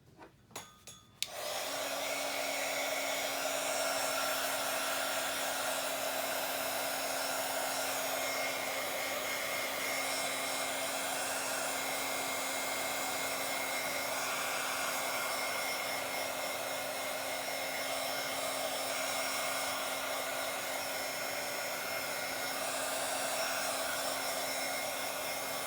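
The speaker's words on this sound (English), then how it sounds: "I know that's an annoying sound, having the heater on, the heating tool on." A handheld heat tool dries paint splatters on a Bible journaling page, switching on after a few soft knocks and then blowing as a loud, steady, close whooshing drone with a faint whine for the rest of the time.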